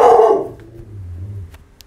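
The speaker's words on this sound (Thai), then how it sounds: "ต้องขอโทษสุนัขก็เห่านะ" A dog barks once, a short, close burst at the start, then fades into a faint low hum and near-silence.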